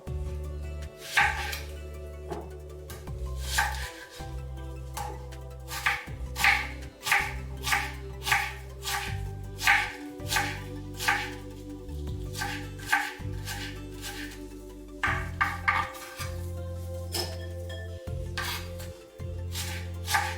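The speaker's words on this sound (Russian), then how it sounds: "600 грамм репчатого лука нарезаю полукольцами." A knife slicing 600 grams of onions into half rings on a board, a steady run of crisp cuts close by, some in quick clusters, over a low steady hum.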